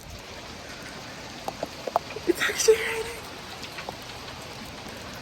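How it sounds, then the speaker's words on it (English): Rain falls steadily outdoors as a broad, even hiss throughout, with a few brief louder splashes or knocks midway and a person speaking briefly over it. "And now it's raining!"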